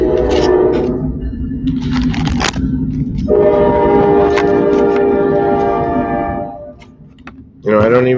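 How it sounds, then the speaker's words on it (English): Train passing outside, its horn sounding in long, loud tones that swell and hold before fading, heard from indoors. "I don't even notice the train anymore unless I'm doing breaks."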